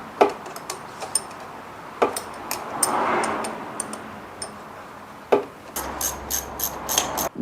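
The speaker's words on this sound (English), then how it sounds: "It also came with the brake lever, so I might as well just put that on." A brake lever is fitted onto a cheap Chinese bike, producing sparse close clicks, rubs and small metallic ticks from handling parts and a tool, with a faster ratcheting patter near the end.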